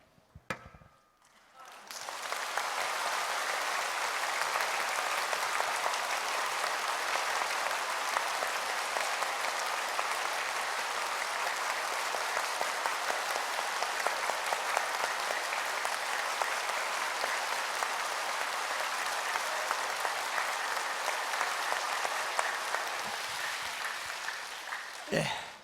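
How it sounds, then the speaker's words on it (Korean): Church congregation clapping hands hard during a Sunday sermon, a loud, fast, continuous roar of many palms that starts abruptly after a short pause and keeps up steadily for over twenty seconds. "손바닥이 빨갛게 치는 겁니다"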